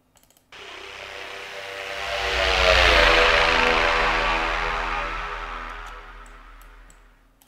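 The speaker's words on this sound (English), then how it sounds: "And now let's try the synth sound." A synthesized spaceship sweeps past with a Doppler effect, its tone swelling from a faint approach to a loud peak midway, then bending downward and fading away over about seven seconds.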